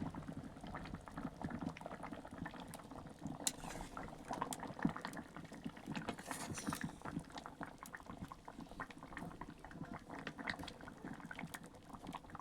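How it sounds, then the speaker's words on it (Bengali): A pot of Bengali mutton curry with potatoes bubbles at a steady simmer, with soft continuous boiling and scattered small pops throughout, faint and close, with no voices. "এরপর মাংসটি সেদ্ধ করে নিচ্ছি 30 থেকে 40 মিনিট সময় ধরে, যতক্ষণ না মাংসটি সেদ্ধ হচ্ছে।"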